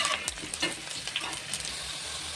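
A small onion frying in a little groundnut oil for a mutton curry, a steady close sizzle with a few soft stirring clicks, with no talking.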